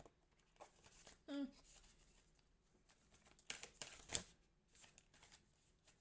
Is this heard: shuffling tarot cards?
yes